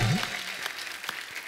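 Steady applause from a TV comedy show studio audience, a dense wash of clapping that stays loud throughout, with a voice briefly audible at the very start.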